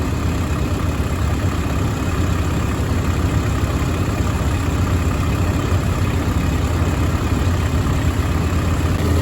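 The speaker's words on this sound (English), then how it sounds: "this time Jordan hit it with the four-wheeler" Four-wheeler engine idles steadily during hay bale rolling, a continuous low rumbling drone that holds level throughout with no speech.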